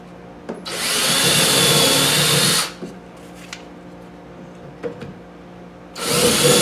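A power drill drives 1/4 inch lag bolts during basement storage work, whining loud and close for about two seconds, then a pause with faint clunks before it starts spinning again, with no talking.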